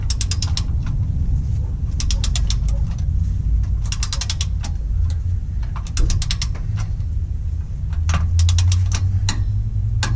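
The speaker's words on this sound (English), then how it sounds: "We will put our drain plug back in with a new gasket and tighten it to 36 foot-pounds" Ratchet tightening a differential drain plug with a new gasket on a Gen 1 Toyota Sequoia 4x4: bursts of rapid, close metallic clicking come in repeated strokes over a steady low hum, with no talking.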